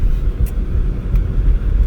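2011 BMW 328 xDrive wagon with a naturally aspirated inline six and six-speed manual, heard from inside while driving as a low, steady engine and road rumble with faint brief clicks, no talking.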